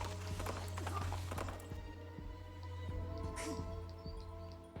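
Horse hooves clip-clop in a steady walking rhythm in the Princess Peach Showtime video game, with a low background hum, faint bird chirps and occasional whinnies around the steps.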